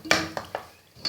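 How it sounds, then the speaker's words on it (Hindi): Aloo keema being roasted in a pan, with a few quick scraping strokes of a spoon against the metal in a short, uneven burst, close and moderately loud. "अब इसकी बहुत अच्छी तरह से भुनाई करनी है।"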